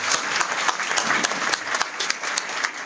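A burst of steady applause from a crowd, dense clapping throughout with no pauses.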